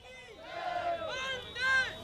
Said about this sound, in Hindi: ये भीड़ आपके पीछे जो नारेबाजी कर रही है